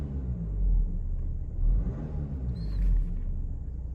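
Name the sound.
Audi A6 TDI diesel engine, throttle blips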